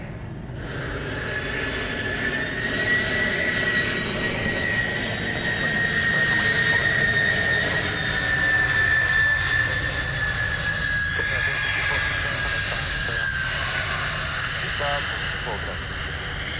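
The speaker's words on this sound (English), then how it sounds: "Good sounds there. There's no hush kits on those engines." Jet airliner engines on a landing at Sydney Airport, engines without hush kits, roar steadily and loudly throughout with a rising and falling whine, while people talk faintly underneath.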